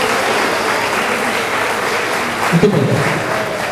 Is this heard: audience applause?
yes